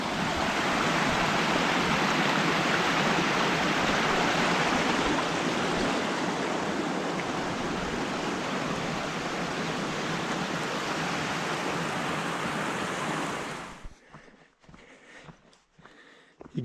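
A mountain stream rushes across a water crossing on Mt. Hood's Timberline Trail, a close, continuous hiss and burble that holds steady, then cuts off abruptly near the end, leaving a few faint scattered sounds.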